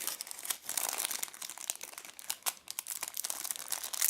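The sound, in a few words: unwrapping a plastic packet of an RFID card holder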